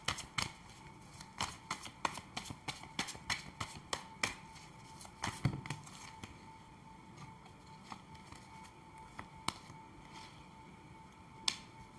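Tarot cards shuffled and drawn from a deck, a long run of quick, crisp card snaps and riffles close by, dense at first and thinning to scattered single flicks, with no talking.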